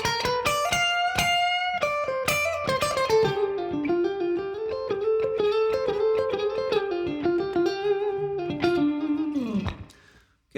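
An electric guitar plays a quiet, low-dynamic slow blues lick of picked notes and bends, close and clean, ending in a soft fade, with no talking.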